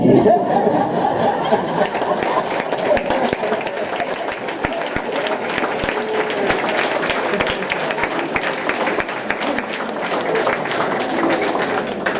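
An audience at a Hall of Honor induction ceremony applauds the honorees, dense sustained clapping filling the room for several seconds, with scattered chatter and light laughter mixed in.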